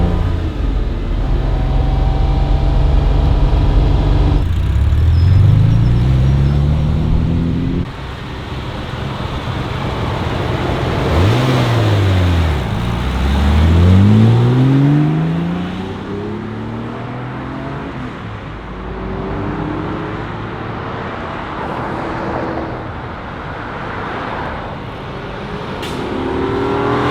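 A 1964 Ferrari 250 Lusso engine revs loudly up and down through several gear changes, the pitch sweeping high then dropping, close and continuous throughout.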